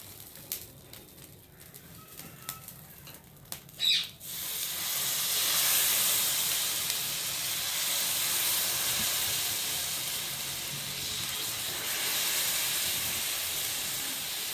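Bottle gourd rava dosa batter hitting a hot griddle, a steady hiss of sizzling rising suddenly after a few seconds of quieter kitchen sounds and holding loud to the end, with no talking.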